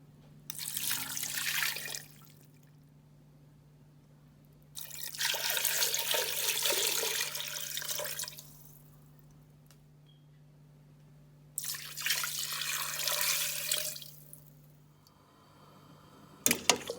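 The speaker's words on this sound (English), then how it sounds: "we're going to add water" Twelve cups of water are poured into a pot of seasoned chicken for Jamaican-style chicken soup. Three separate pours splash in close by, each lasting a few seconds, with quiet pauses between them.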